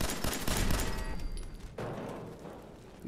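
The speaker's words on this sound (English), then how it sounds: "Up top, there is a turret." Rapid automatic turret fire in Fallout 4, loud and close, a dense burst of shots that drops to a quieter rattle partway through.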